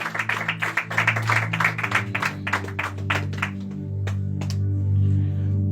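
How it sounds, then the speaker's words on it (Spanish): Church congregation clapping in unison during a Spanish-language worship service, a steady run of sharp, roomy claps over sustained low music that thins out near the end. "Dele palmas para el Señor."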